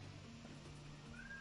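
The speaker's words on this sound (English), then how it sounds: "My cat is just screaming." A pet cat lets out a single faint, drawn-out meow near the end of a short stretch of quiet room hum.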